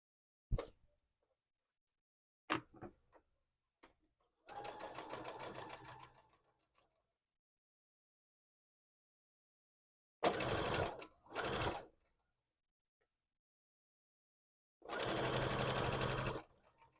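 A sewing machine stitches the hooves of a plushie in three separate bursts of rapid whirring, each a couple of seconds long, with a few sharp clicks and handling taps between runs in a quiet room.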